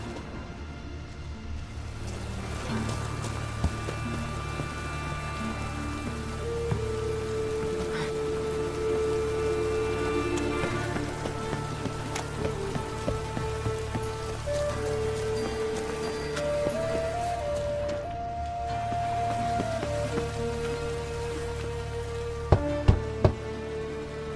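Steady rain falls in The Witcher 3: Wild Hunt, a dense, constant patter on surfaces lasting over twenty seconds, with faint tonal game sounds underneath and a few sharp knocks near the end.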